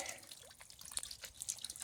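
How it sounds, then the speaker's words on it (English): A solar fountain filter sprays water into a small fish pond, making steady, close splashing and dripping with scattered bright droplet patters and no voices. "I've got a solar filter, fountain filter, spouting lots of water to oxygenate the pond"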